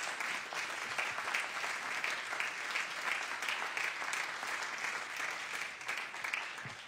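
A room full of people in the Senate chamber gives a steady round of applause, a dense and even clatter of clapping that carries on at moderate loudness without a break.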